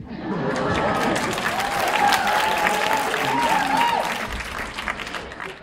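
Film premiere audience at a HORNS screening applauding, a full crowd clapping steadily with some cheering and whistle-like tones, sustained then tapering slightly toward the end.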